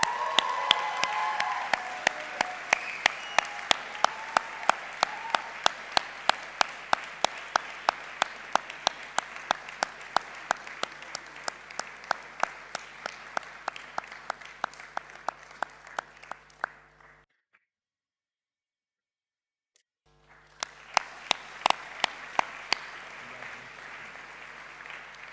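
Sustained applause at a college graduation ceremony for special award recipients, a dense wash of many hands with sharp individual claps standing out, fading out, then a short pause before the clapping picks up again.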